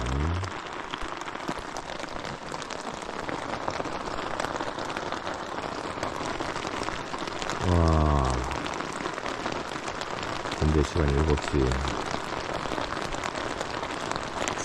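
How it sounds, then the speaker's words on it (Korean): Heavy rain pouring outside before dawn during a European trip, a steady dense hiss filling the whole stretch, with a voice speaking briefly over it partway through. "새벽 5시 밖에는 비가 겁나게 내리고 있습니다"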